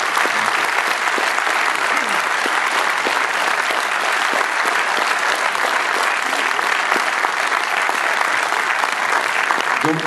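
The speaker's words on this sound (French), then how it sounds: "je voudrais qu'on les applaudisse encore une fois très chaleureusement" Theatre audience at a film premiere for the actors and directors of 96 heures, a sustained, even wash of dense clapping that fills the room without a break from start to finish.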